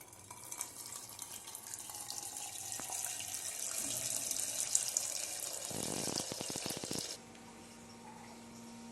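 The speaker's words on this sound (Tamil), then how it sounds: "இந்த தண்ணியை வடிச்செடுக்கலாம்." Water from freshly curdled homemade paneer, about two litres of milk's worth, pours steadily through a strainer into a sink, a continuous splashing rush that ends in a burst of clattering drips.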